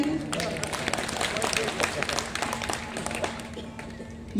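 Audience applause at a Hindi poetry recital, a kavi sammelan in Guna: steady, fairly close clapping from a crowd, with voices mixed in.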